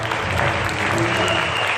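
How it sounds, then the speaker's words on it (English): An audience at a community performance event in Uniontown gives the performers a round of applause. The dense, steady clapping fills the whole moment at an even loudness, and a voice may sound faintly underneath. "Let's give them one more round of applause."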